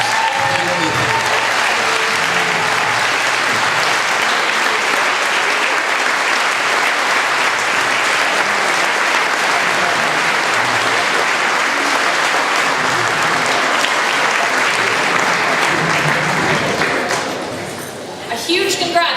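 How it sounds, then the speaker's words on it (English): A large audience gives sustained applause for 2017 scholarship winners, thick continuous clapping at steady loudness that fades slightly near the end. "please give a final applause to all our 2017 scholarship winners"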